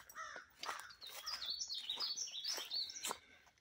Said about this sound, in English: Some crows really not happy with us coming through this morning.